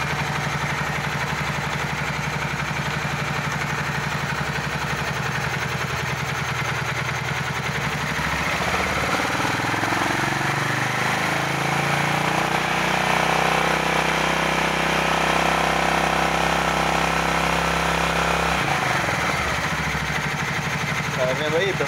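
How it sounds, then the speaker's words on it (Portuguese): A Honda Shadow VT 600 motorcycle with a dead battery, standing in a workshop, idles and then revs up and back down, its engine note rising and falling close by while someone speaks over it. "Vou dar uma acelerada."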